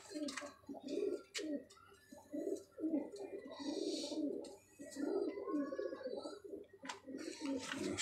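Kamagar and Golden Teddy pigeons coo repeatedly nearby, soft rolling calls overlapping in an irregular rhythm, with faint chirps and rustling in the background.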